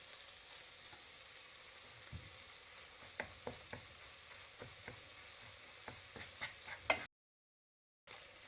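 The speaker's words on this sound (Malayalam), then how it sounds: "പൊരിച്ചെടുക്കട്ടെ കേട്ടോ മുട്ട" Eggs frying in a pan for masala egg pasta, a low continuous sizzle broken by a series of light scraping and tapping stirs of the spatula, fairly quiet, with a short silent gap near the end.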